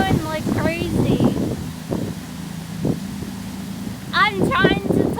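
Strong wind buffets outdoors at a cemetery, a rushing roar across the microphone while a person talks loudly over it in short bursts.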